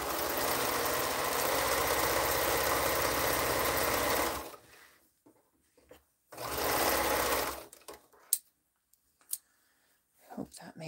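A sewing machine stitches a spike block for a quilt, running in a steady close whir for about four seconds, pausing, then running again in a shorter burst, followed by a few light clicks.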